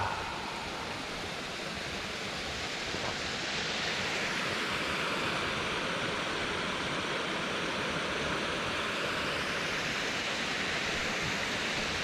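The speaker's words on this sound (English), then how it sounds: "listen to the waterfall." An outdoor waterfall beside a hiking trail gives a steady, full rushing roar that holds constant and fills the air, with no voices.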